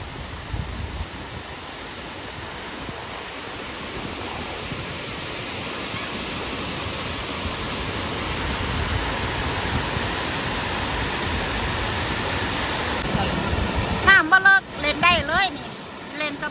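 Water at the Seven Colors Waterfall rushes in a constant broad hiss for over fifteen seconds, swelling slightly midway, with a voice briefly breaking in near the end.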